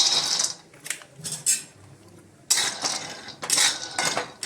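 Dry rattling and scraping of almonds being dry-roasted in a hot metal kadai, in bursts with brief quieter gaps, close by.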